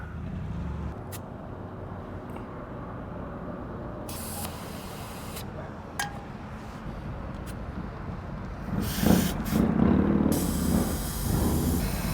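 Air hisses from a motorcycle tire being aired down outdoors, several short bursts of spray-like hissing over a steady background rush, the last one longer and louder.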